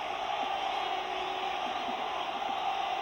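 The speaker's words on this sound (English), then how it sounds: "Crowd reacted well to it as well." Football stadium crowd at a European Championship third-place play-off between Holland and Yugoslavia, a broad sustained roar of fans reacting to a shot going just wide, steady and fairly loud throughout.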